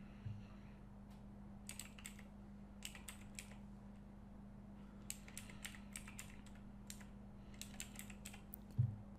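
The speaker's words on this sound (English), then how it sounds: "in this domain name box, I just simply type pilotcoupon.com" Someone types a domain name on a computer keyboard in quick, quiet clusters of keystrokes with short gaps, over a steady low room hum.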